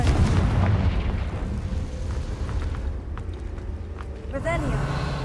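In Hogwarts Legacy, the Confringo fire spell explodes with a loud, deep, rumbling blast that rolls on for several seconds, then a second burst erupts near the end.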